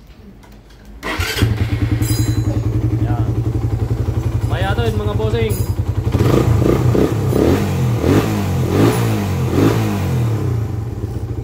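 A carbureted Suzuki Raider 150 motorcycle engine cranks and catches, settling into a loud chugging idle that is blipped a few times, with people talking over it.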